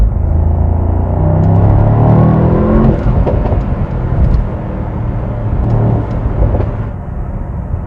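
A 2022 Mercedes SL 63 AMG accelerates hard on the Autobahn at night: loud engine roar rising through the gears with rushing road and wind noise, heard from inside the car.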